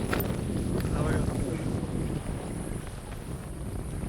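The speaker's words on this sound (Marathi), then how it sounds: "वारा सुटलाय मित्रांनो, वारा" Wind blows hard across a tidal creek, buffeting the microphone with a continuous, rumbling roar that eases slightly toward the end.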